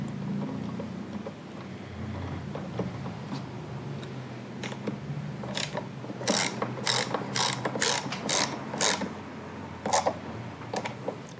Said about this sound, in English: And tighten it up with the ratchet.